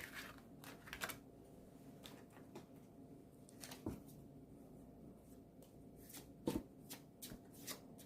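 Tarot cards are shuffled by hand, soft papery riffles and slides with scattered sharper flicks and taps spread unevenly over several seconds, close but fairly quiet, with no voices.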